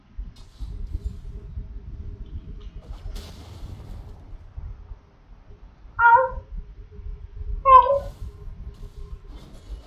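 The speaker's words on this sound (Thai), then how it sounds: "แมว" Two short, fairly loud cat meows stand out at about six and eight seconds over a low, rumbling background, and faint talk can be heard underneath.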